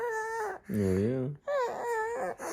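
An infant cries at home for the first time since being discharged from hospital, loud and close, in three long wailing bursts with short breaths between them.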